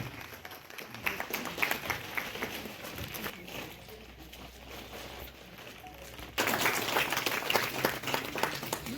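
An audience at a municipal groundbreaking ceremony in Khedbrahma applauds to welcome women's power, with sustained clapping that dips briefly mid-way and then swells again louder toward the end.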